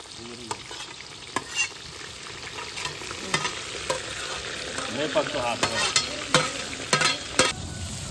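Chicken pieces frying in a kadhai, including large leg pieces, a steady sizzle with repeated sharp ladle knocks and scrapes against the metal, close and fairly loud.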